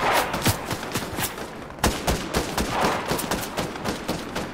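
Gunfire in the video game Fortnite during a squad match: rapid, continuous volleys of sharp shots at fairly close range, dense and loud for several seconds with no talk over them.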